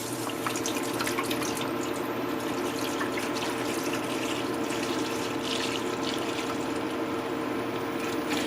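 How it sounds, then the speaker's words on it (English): Nearly a gallon of milk pours steadily into a pot of melted butter, giving a continuous close liquid splashing and trickling that runs unbroken throughout with no talking. "To that, we are going to take almost a gallon of milk."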